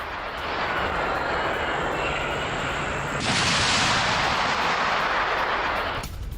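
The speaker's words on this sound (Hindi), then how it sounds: "एक के बाद एक 13 टॉमाहॉक मिसाइलें देखिए कैसे दागी गई हैं इधर।" Tomahawk missiles launch one after another from a US Navy ship with a loud, roaring rush, and a second launch partway through adds a fresh, louder blast of noise before it cuts off.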